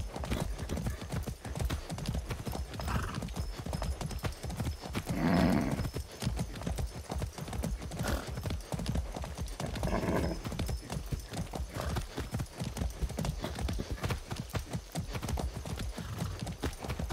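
In a video game, Far Cry 6, steady clip-clopping of horse hooves at a brisk, even pace throughout, with a couple of brief horse snorts or whinnies mixed in.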